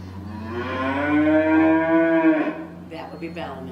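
A calf lets out one long, loud, drawn-out moo up close, calling toward cows of the herd on a farm sanctuary, followed by softer rustling and faint sounds.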